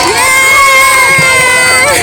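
Loud cheering and shouting from a crowd of women and children at a Teej celebration after a ramp walk winner is announced, a close, continuous wall of excited voices.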